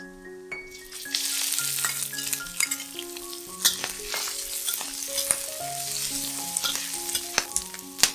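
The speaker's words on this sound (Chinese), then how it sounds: "炒至咸菜的香味出来后，放入番茄炒一炒" Salted mustard greens stir-fried in hot oil with ginger slices for a vegetarian fish-slice rice noodle soup, a steady close sizzle with spatula scrapes and clinks, soft music playing underneath.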